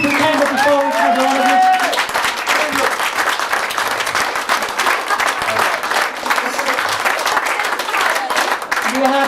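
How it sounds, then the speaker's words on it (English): A live comedy hypnosis show audience gives a loud, dense round of applause, many hands clapping close and continuous, with a voice talking and some crowd noise mixed in near the start. "We have another round of applause,"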